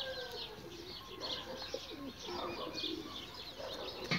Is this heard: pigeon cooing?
yes